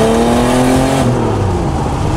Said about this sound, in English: the turbo noise. The little whistle.